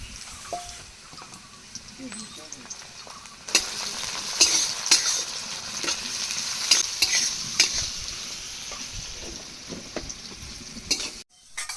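Chopped onion and crushed garlic sizzling in a hot pan, a steady close fry broken by repeated clinks and scrapes of a utensil stirring, growing louder partway through before stopping abruptly near the end.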